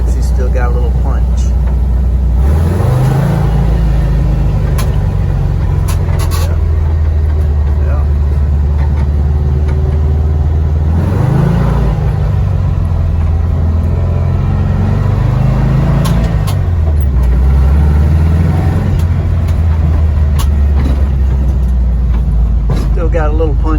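A Volkswagen engine running on a newly fitted electric fuel pump during a test drive, idling then revving up through first gear in three rising pulls, loud and close, with someone talking over it.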